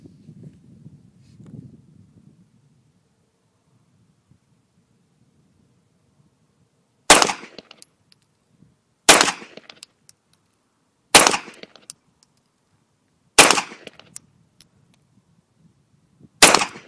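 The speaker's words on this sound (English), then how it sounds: "Let's give this gun a shot and see what happens with it" A Springfield Armory XDm 5.25 Comp pistol fires five loud, sharp shots on a range, spaced about two seconds apart after a quiet lead-in with faint low rumble.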